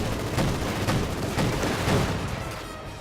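Scout car autocannon fire in Company of Heroes 2, a dense, continuous clatter of rapid shots and blasts mixed with other battlefield gunfire, loud and steady throughout with no voices.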